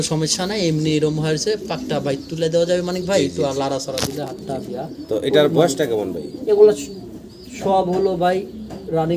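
Fancy pigeons coo repeatedly in low, rounded calls, close and fairly loud, mixed with people talking throughout.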